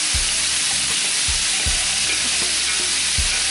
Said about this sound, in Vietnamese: Xong mình sẽ cho đậu hũ trắng và xào sơ sơ lên.